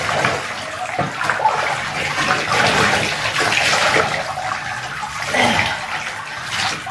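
Water runs steadily into a tub while a dog gets a bath, a close continuous splashing gush with some sloshing and uneven surges and no clear talking.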